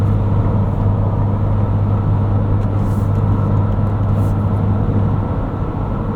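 A steady low exhaust drone and rumble from inside a moving Ford Ranger Raptor pickup truck on 35-inch tires, constant and unbroken with road noise underneath, no talking.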